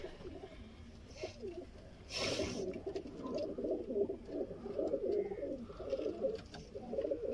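Sialkoti pigeons coo from a rooftop loft, soft repeated throaty cooing calls at moderate distance, with a brief noisy rustle partway through.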